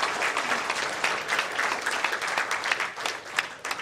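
Church congregation applauding at an ordination and anniversary worship service, a steady, dense wash of clapping that holds fairly even throughout with no break.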